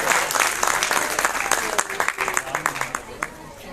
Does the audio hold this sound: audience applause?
yes